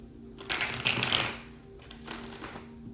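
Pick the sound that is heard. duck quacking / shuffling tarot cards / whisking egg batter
shuffling tarot cards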